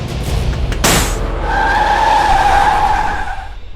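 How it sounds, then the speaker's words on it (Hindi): A car tire on a moving vehicle bursts with a sharp, loud bang, followed by a sustained tire squeal and road noise that fade out. "ये आवाज कैसी थी? लगता है टायर पंचर हो गया।"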